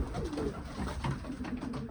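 Soft, low pigeon coos repeat steadily over a continuous background hum, with no talking.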